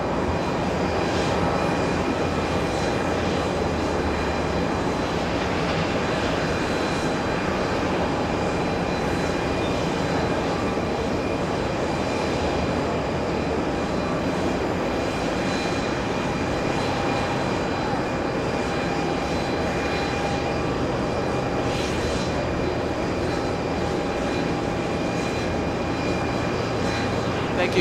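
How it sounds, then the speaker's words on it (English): An Aeromexico Boeing 737 MAX 8 jet takes off from John F. Kennedy International Airport, bound for Mexico City, its engines a loud, steady, broadband roar that holds almost unchanged throughout. "Aero Mexico lifting off. A 737. Heading to Mexico City."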